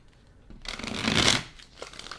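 Tarot cards being shuffled and cut by hand, a soft papery riffle and rustle that swells to a peak midway and then settles into lighter flicks, close and alone.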